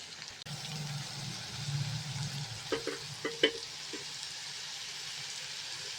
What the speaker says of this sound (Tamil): இப்போ நம்ம காளான் போட்டு நல்லா மிக்ஸ் பண்ணி விட்டுக்கலாம்.